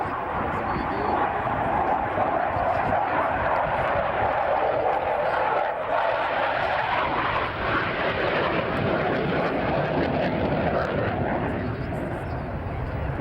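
A jet nicknamed Misdemeanor roars past at a seaside airshow in a continuous, loud, broad engine rumble that swells and holds steady, with a commentator's voice faintly beneath it.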